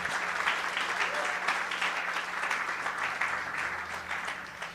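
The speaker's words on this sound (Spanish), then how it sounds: "Denle una ofrenda de palmas a nuestros hermanos de redes sociales que nos ven." Steady applause from a church congregation during a Spanish-language service, filling the whole stretch with dense, even clapping at a constant level and no voices on top.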